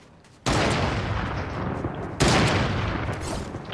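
Loud, close video game gunfire in two heavy bursts, the second starting a little over a second after the first, with no talk over it.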